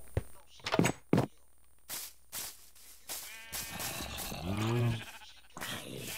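A sheep in a Minecraft-style video game gives one short bleat, preceded by several sharp game thuds and knocks, with soft talk around it.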